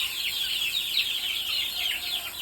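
Month-old chicks on a farm raised for poultry keeping, chirping and peeping continuously in a busy, close chorus of high calls with no talking.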